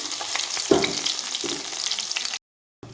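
Steady crackling sizzle of stuffed flat beans frying in hot oil on low to medium heat, close and fairly loud, with a brief louder spatter, then a sudden short silence before the sizzle returns.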